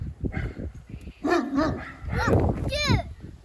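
Kangal dogs bark and yip in short bursts on a farm, some whimpering, mixed with nearby human voices.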